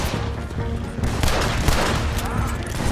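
Dense gunfire in the Red Dead Redemption 2 video game, a loud ongoing fusillade of overlapping shots and booms echoing during a shootout, with faint voices mixed into the chaos.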